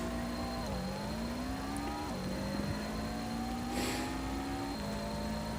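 A car in a highway racing video game revs up through its gears after a nitrous boost, the engine tone climbing steadily and dropping at each shift, loud and continuous throughout.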